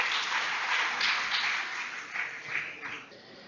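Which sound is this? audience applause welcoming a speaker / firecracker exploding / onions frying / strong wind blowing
audience applause welcoming a speaker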